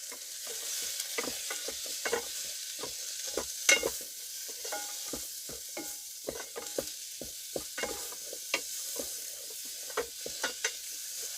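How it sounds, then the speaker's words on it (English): Garlic sizzles in garlic butter in a pan while a utensil stirs it in an RV kitchen: a constant soft frying hiss broken by irregular scraping and tapping strokes against the pan, close up. "So we're going to add a little bit of garlic. And we're going to stir it."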